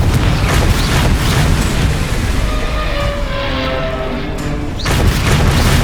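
Confringo blasting curse explosions in the game Hogwarts Legacy, loud deep booming blasts with a constant rumble, a fresh sharp burst near the end.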